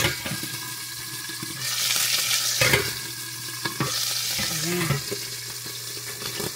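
Chicken liver sizzles and splatters in a frying pan while being stirred for adobo, a steady close crackle with scraping spoon strokes and brief clatters, a voice speaking briefly near the end.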